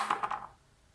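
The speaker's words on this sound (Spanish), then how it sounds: "El eje lanza sus dados." Dice rattle and tumble onto a board during an Axis & Allies D-Day wargame, a short cluster of three or four close, clicking impacts that settles into quiet within half a second.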